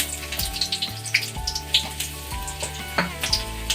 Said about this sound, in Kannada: ಈಗ ಎಣ್ಣೆ ಕೂಡ ಕಾದಿದೆ ಇದಕ್ಕೆ ನಾನು ಸಣ್ಣ ಕಟ್ ಮಾಡ್ಕೊಂಡಿರೋಂಥ ಬೆಳ್ಳುಳ್ಳಿನ ಹಾಕೋತಾ ಇದ್ದೀನಿ